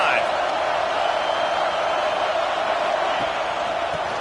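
A stadium crowd at a football game roars at a big moment, a loud, steady wall of cheering that holds at full strength without a break for several seconds.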